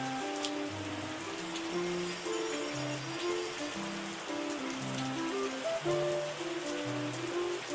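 Steady rain falls in the wine-making video game Terroir, a constant hiss of drops under a slow, gentle musical backing.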